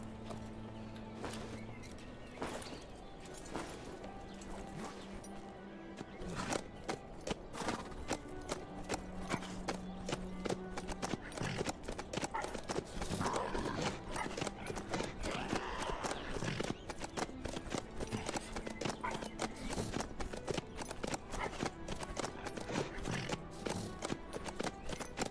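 Horse hooves clip-clop steadily in the survival video game HumanitZ, starting as a soft, sparse gait and picking up into a fast, loud, even rhythm that keeps going throughout, with game music tones underneath.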